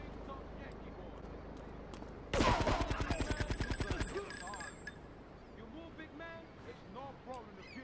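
Shotgun fire in GTA 3 goes off with a sudden loud blast, then a rapid rattling string of repeated bangs for about two seconds, followed by quieter scattered game noises and a voice speaking.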